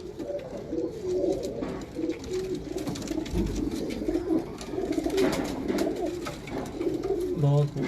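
Pigeons coo repeatedly and close by through a bird-keeping loft in Sialkot, their soft rolling calls running steadily under a voice talking nearby.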